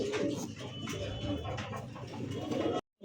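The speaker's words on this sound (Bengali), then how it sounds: "ডাকটাও খুব সুন্দর, বাকবাকুম" Lahori pigeons in a cage give soft, repeated throaty cooing close by. Several birds overlap in a continuous murmur.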